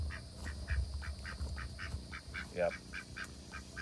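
A duck living alongside chickens at a coop, after a tornado, gives a series of rhythmic honking quacks, fairly close and steady, with one louder call near the middle. A person briefly speaks.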